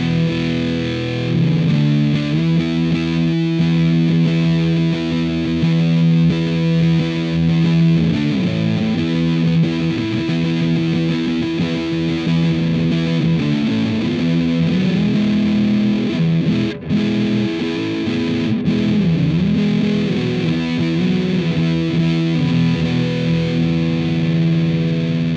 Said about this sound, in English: So I got a lot of bass, a lot of treble for more of a scoop sound.